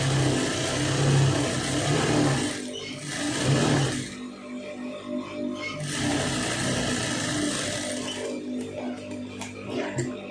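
A sewing machine stitches the lining of a blouse, running loud and steady in long bursts with brief pauses between them.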